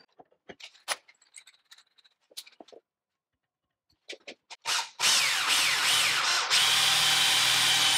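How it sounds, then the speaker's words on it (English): A power tool deburrs the edge of a drilled hole in a steel front license plate bracket for a Bronco's modular steel bumper, starting after scattered small clanks and settling into a loud, continuous, steady whine for the last three seconds. "just deburr that a little bit, clean up the edge of that hole"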